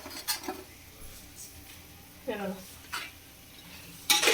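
Manchurian ingredients stirred and mixed in a pan, with sparse clinks and scrapes of a utensil against the metal separated by quiet gaps, faint and close, with a few short bursts of talk in between.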